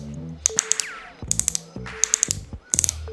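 Purple metal MiniCandy balisong trainer being flipped, crisp close metallic clicks in four tight clusters with ringing tones between, loud and alone.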